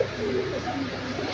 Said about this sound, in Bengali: এক জোড়া রানিং লক্ষা কবুতর দিয়া ভিডিও শেষ করে দিব